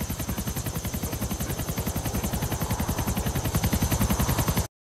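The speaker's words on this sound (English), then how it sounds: "This is going to be the last and final helicopter." A helicopter in GTA 4: The Ballad of Gay Tony, its rotor thumping in a fast, even rhythm that stays loud and close throughout before cutting off abruptly.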